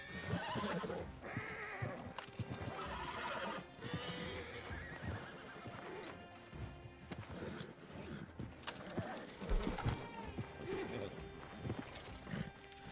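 Horses in the Red Dead Online video game neighing and whinnying with clip-clopping hooves, repeated loud calls over busy game background sounds.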